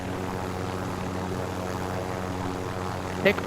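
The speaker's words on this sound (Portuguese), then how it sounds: "Pegar esse helicóptero e subir ali no azul." A helicopter's engine and rotors drone steadily and loudly throughout in the video game Call of Duty: Warzone, a constant mechanical hum with a brief click near the end.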